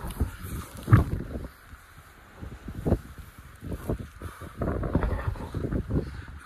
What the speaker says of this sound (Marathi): हवा बघा कसली सुटली